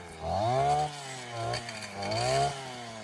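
A motorized grass cutter trims overgrown grass beside an azolla bed on a farm, its small engine revving up and easing down in repeated surges, close and steady with no talking.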